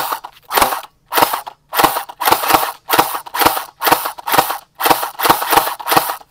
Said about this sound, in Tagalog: kaya ganun yung putok na nakasetup tayo ng semi-auto